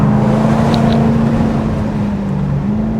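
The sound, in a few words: Jaguar F-Type R75 convertible driving with gear changes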